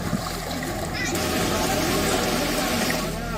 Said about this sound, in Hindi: पानी को जहां रास्ता मिला वहीं से बहने लगा।